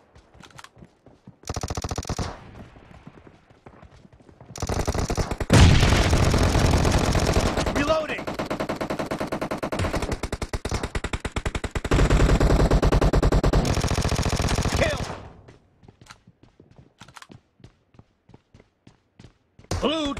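Rapid automatic fire from a Vector submachine gun in a PUBG Mobile team deathmatch, loud sustained bursts lasting several seconds with brief gaps, set apart by quieter stretches of game sound.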